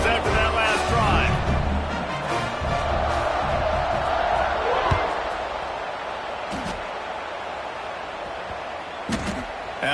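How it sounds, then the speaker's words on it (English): A football stadium crowd at a Mizzou game roars loudly, the broad cheering noise slowly fading over ten seconds, with a commentator talking over it. "this crowd is feeling themselves after that last drive"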